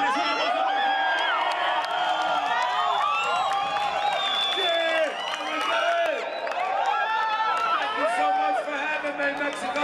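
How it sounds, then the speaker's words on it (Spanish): Punk concert crowd cheering, whooping and applauding in a dense, sustained roar with shouted voices throughout, loud and close, honoring a tribute performer. "¡Un aplauso!"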